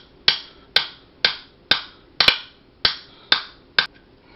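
Sharp metallic taps strike in a steady rhythm, about eight blows, close and crisp, as a small hammer drives in a pin while installing an AR-15 forward assist.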